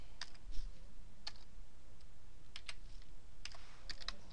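Keys on a computer keyboard tap in short, irregular bursts of crisp clicks, close by and fairly quiet, over a low background hum with no voice.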